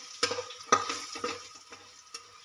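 Chili powder stirred into bean pods and tomato frying in a pan: a brief sizzle with a few quick scraping stirs and light clinks of a utensil against the pot, close up, no talking.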